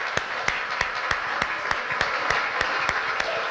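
Sparse rhythmic clapping at an Italian music show, about a dozen sharp, evenly spaced claps over a soft background hum, close and fairly distinct.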